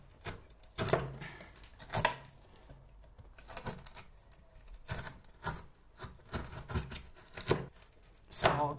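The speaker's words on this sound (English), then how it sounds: "Small chisel for a small violin, big chisel for a big cello." Small chisel cutting into the wood of a cello, a series of crisp, irregular taps and scraping strokes up close, fairly quiet, with no talking over it.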